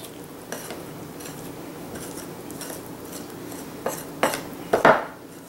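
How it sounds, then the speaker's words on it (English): A spoon stirs thick powdered-sugar glaze in a bowl with soft, repeated scraping. Near the end, a few louder clinks and knocks ring against the bowl. "this is going to get pretty thick, but you just got to keep stirring"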